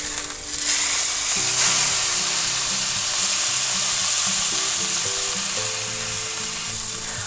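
A ribeye steak sizzles in a pan just after being flipped, a loud close steady hiss of frying fat running throughout, with faint low background tones underneath and no talking.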